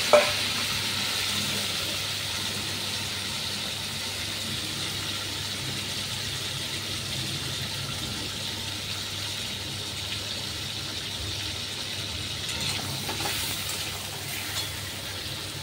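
Eggs and potatoes frying in oil for an egg curry, a constant even sizzle close by with no talk, steady for the whole stretch.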